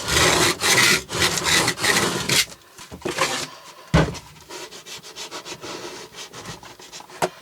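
A hand rubs and presses cardboard flat to smooth it while building a cardboard drawer shelf. Close, scraping strokes come in quick bursts at first, then thin out into sparser rubbing with a sharp knock partway through.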